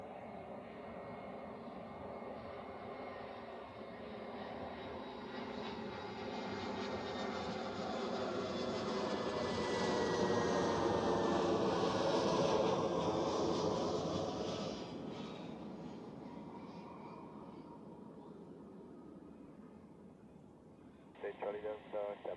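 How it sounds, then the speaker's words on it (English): An easyJet Airbus A320 arriving from Pristina lands on runway 14 at Zurich Airport. The jet roar builds gradually to a loud peak and then fades away, with a brief burst of voices at the very end. "So that's the EasyJet A320 from Pristina."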